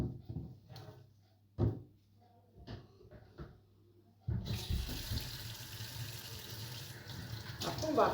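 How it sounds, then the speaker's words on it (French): Tap water pours into a sink while vegetables are rinsed for a peanut-sauce vegetable and farm-chicken dish, starting after a stretch of quiet clatter and continuing steadily to the end, with some talk underneath. "On va laver nos légumes."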